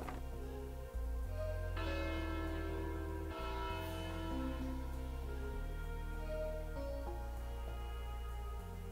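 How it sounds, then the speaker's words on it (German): A church bell in a church tower rings in Castle, the video game, striking repeatedly in a slow, uneven rhythm; each loud, rich toll rings on and overlaps the next. "Die Kirchenglocke schwingt zuerst in Richtung Stuhl."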